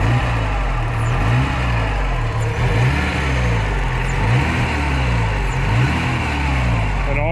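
A 1986 Porsche 944 Turbo engine idling after years of sitting, with a smooth, steady low rumble and a light ticking of injectors on top, close and constant throughout, with a voice talking over it.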